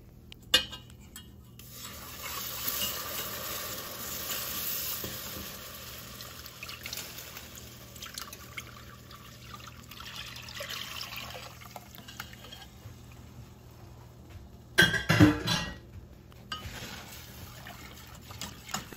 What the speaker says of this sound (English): I'm trying to put the milk in here before this turns